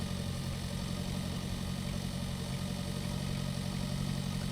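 Tractor engine idling in the farming simulator game Pure Farming 2018, a steady low rumble held evenly throughout with no other sounds.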